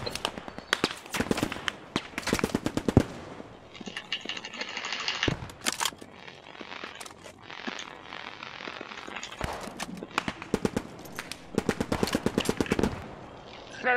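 Rapid bursts of automatic gunfire in the video game Post Scriptum crackle in repeated volleys with short pauses between them, mixed with scattered single shots and clatter, loud and close.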